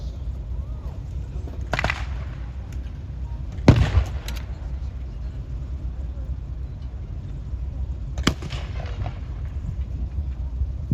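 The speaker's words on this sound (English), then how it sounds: "Oh, my goodness, the guns fired now, they've committed themselves." Heavy weapons fire during a World War Two battle re-enactment at Tankfest 2024: three loud, sharp blasts at wide intervals over a steady outdoor rumble, with no voices.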